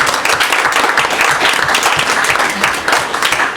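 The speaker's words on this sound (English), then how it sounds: "Let's give the office staff here an applause for the outstanding work." Loud, close applause from attendees of a council rules committee meeting, many hands clapping in a dense, even burst for the office staff.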